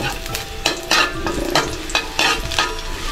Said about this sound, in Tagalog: yung sibuyas, pabrownin ko lang